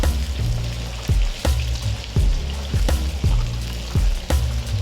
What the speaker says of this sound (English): We're just going to gently fry it.